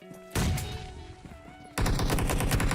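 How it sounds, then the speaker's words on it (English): M4 rifle fire in the PUBG Mobile game rattles out in two loud, rapid bursts, the second starting abruptly after a short gap, with no voices over it. "Arjun taken down by Stevo with an M4."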